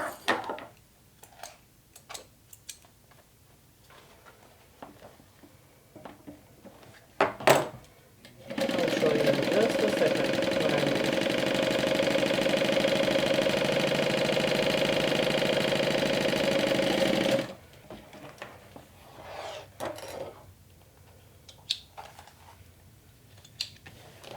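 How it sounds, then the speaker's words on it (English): A sewing machine stitches the top and bottom edges of a backpack pocket for a backpack being made into a handbag, running in one steady, close buzzing burst of about nine seconds between quieter handling noises. "I'm only sewing the top and the bottom and not the sides"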